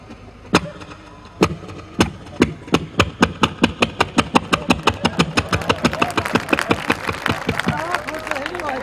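A man mimics a generator being started with his voice: a few spaced pull-start bursts, then sharp pops that quicken into a fast, steady chugging like the engine catching and running.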